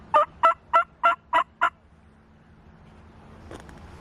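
Wild turkey toms gobble in a grape field 80 to 120 yards off, a rapid burst of six rattling gobble notes, moderately loud, followed by a faint distant call against quiet outdoor background.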